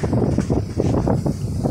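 Strong wind buffets the microphone during kite flying in loud, rolling gusts, a heavy low rumble swelling and easing every few tenths of a second.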